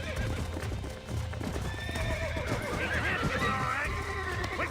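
Horse hooves clip-clop steadily while the horse whinnies in Red Dead Redemption; someone speaks over the game sounds, which stay loud and close throughout.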